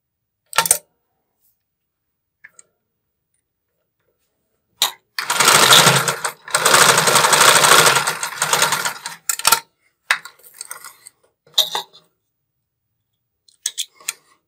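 A sewing machine stitches lace underwear in short bursts, with a loud, steady run of a few seconds broken by pauses, then scattered quick taps and clicks of fabric handling.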